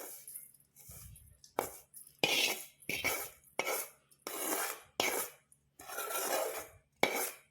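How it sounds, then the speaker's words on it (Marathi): Roasted grated coconut being scooped and scraped into a bowl with a spoon, a series of short rasping scrapes and light clinks in an irregular rhythm, close and fairly quiet. "या ठिकाणी आता हे खिचलेलं खोबरं या कटोऱ्यामध्ये मी काढून घेत आहे"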